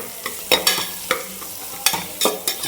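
Spice powder is stirred into a frying pan in a quick series of sharp metallic scrapes and taps, about half a dozen strokes over a light sizzle, close and fairly loud.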